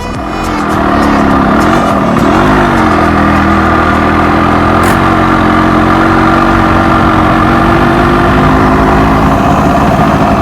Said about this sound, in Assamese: গাড়ীৰ ইঞ্জিনৰ চাউণ্ডটো বেছি।